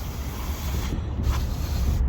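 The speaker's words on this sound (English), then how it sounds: "I bought some CRC mass airflow sensor cleaner." CRC mass airflow sensor cleaner sprays from an aerosol can onto the sensor of a 2006 BMW E53 X5 3.0i, giving a steady, close hiss that lasts about two seconds.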